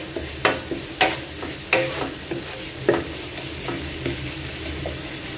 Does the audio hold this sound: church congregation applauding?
no